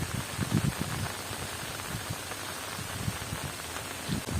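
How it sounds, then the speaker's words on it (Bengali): Heavy rain pours steadily outdoors beside a railway line, with a dense, continuous hiss of drops hitting water and ground. "বৃষ্টি মানে একদম পাগলা মতো বৃষ্টি হচ্ছে"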